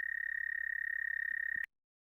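A frog or toad gives a single sustained, rapid trilling call, loud and close, running unbroken until it cuts off abruptly.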